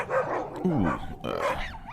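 Dogs bark in a cartoon-like scene, a couple of loud, close woofs overlapping with voice-like yelps and whimpers, spread across a couple of seconds.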